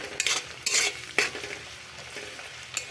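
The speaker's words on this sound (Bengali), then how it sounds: "আমি সব কিছু একবার নাড়াচাড়া করে নিয়েছি।" Onions and spice paste stirred in a frying pan, with a few sharp scrapes and clinks of a utensil over a soft, steady sizzle, close up and without voices.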